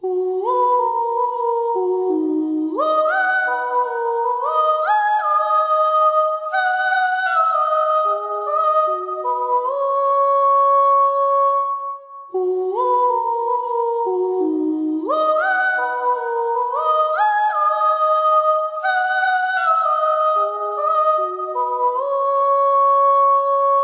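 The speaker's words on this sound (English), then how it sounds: "The main vocal line, or synth line, in this remake is coming from a contact library" Soloed synth vocal line from a Kontakt sample library in a production, singing a melodic phrase of gliding, pitched 'ooh' notes that repeats after about twelve seconds, loud and steady with no talking.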